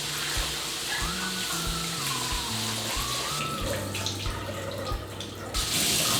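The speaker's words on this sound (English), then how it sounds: "What I like to do, I like to give them a rinse first." Tap water runs steadily over raisins in a kitchen sink, a continuous close splashing gush with shifting tones as the raisins are moved under the stream.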